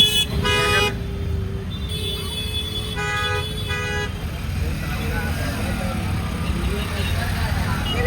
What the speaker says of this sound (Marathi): ट्रॅफिक एवढी आहे ना जोरान ट्रॅफिक आहे